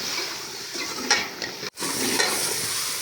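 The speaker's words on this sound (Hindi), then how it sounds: "अब करते हैं इसको 2 से 3 मिनट के लिए इसको खूब भूनते हैं।" Potatoes and peas sizzle and fry in a pan while a spoon stirs them, scraping a few times, with a brief drop in sound partway through.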